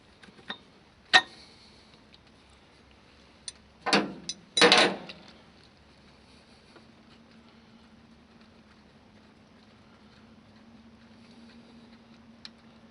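A wrench works a nut and bolt on an old Oliver tractor, giving a few sharp metallic clicks and a short ratcheting clatter, separated by quiet stretches with a faint low hum.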